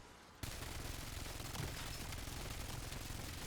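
Rapid, sustained assault rifle fire from a max fire rate AR in Black Ops 7 Zombies, a loud dense unbroken burst that kicks in after a brief quiet start and roars on without pause.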